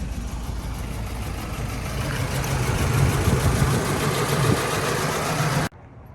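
A Nissan 240SX engine idling steadily during a rebuild, a close, even low rumble holding for several seconds before cutting off abruptly, with no voices.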